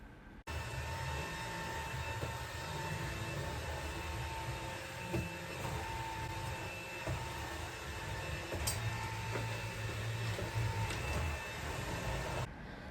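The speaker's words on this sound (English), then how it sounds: "I can chase my dog with a vacuum" A steady mechanical whir drones on without a break for the whole stretch, the broadband hum of a vacuum cleaner running close by.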